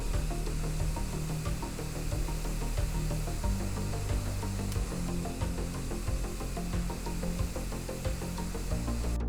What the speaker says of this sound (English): Insert the pipe into the jacket and spray for around 10 seconds.